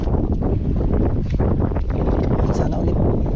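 Strong wind roars steadily and loudly across the microphone at sea on a fishing boat, a dense rumbling buffet with no letup, while someone talks under it.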